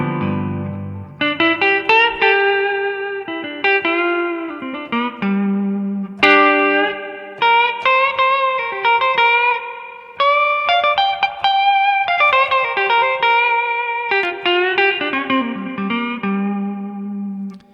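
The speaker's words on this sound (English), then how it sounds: "I personally like, for shorter spring reverb, this type 1 right here" Clean electric guitar playing a blues phrase of single notes and chords through the type 1 spring reverb of the Evolution Hollowbody Blues, each note ringing with a short springy tail and brief pauses between phrases.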